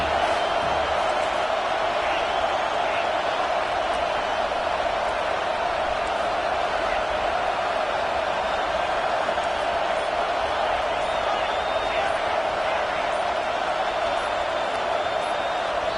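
Stadium crowd at a Virginia Tech college football game in NCAA 25, a continuous, even roar of many voices that holds steady throughout without breaks.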